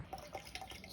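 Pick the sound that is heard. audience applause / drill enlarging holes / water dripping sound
water dripping sound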